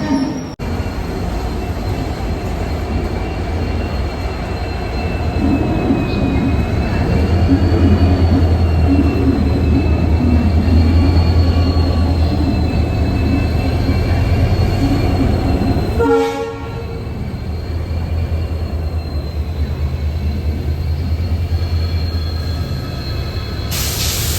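A loud Dadar–Tirunelveli train rumbles steadily past at a Pune station with a droning horn-like tone, rolling wheel noise and a brief clank midway, continuing throughout.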